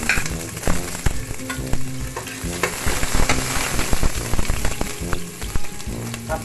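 Onion sizzles hard in olive oil in a pan for pork adobo, a loud, dense crackling fry with repeated spatula knocks and stirring clatter throughout, no voices.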